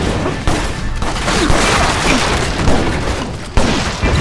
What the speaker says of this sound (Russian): Меня сверху кто-то обстреливает.